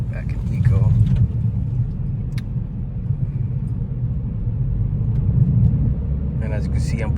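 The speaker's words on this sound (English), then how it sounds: "I'm putting my foot down just like I was before, and it's nowhere near as loud or aggressive" From inside a 2021 Toyota Corolla SE accelerating in eco mode, a subdued, low engine drone and road rumble hold steady while a driver talks over it.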